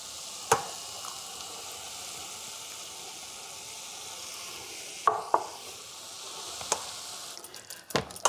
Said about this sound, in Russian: Морковку с помидорами нужно хорошо перемешать